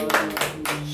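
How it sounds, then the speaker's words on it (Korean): A Korean church congregation claps in thanks during a Bible interpretation lesson, a brief burst of several sharp claps heard close and fairly loud, with a voice underneath. "감사의 박수"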